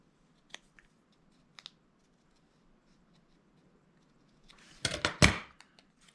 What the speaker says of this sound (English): I'm going to bring in my scissors and just round my ends